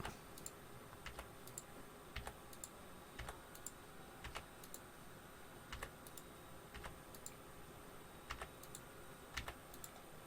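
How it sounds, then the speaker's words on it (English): Computer keyboard cursor keys pressed one at a time while stepping through microscope image resolutions, producing sparse, irregular clicks over a faint steady background hiss, with no talking. "I'm going to use my cursor keys to go through all of them."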